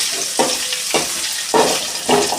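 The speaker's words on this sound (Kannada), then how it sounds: "ಇದನ್ನು ಸ್ವಲ್ಪ ಹೀಗೆ ಫ್ರೈ ಮಾಡ್ಕೊಳ್ಳಿ." Pav bhaji ingredients frying in a pan, with a steady sizzle broken by four sharp stirring scrapes at an even rhythm, close up and with no talking.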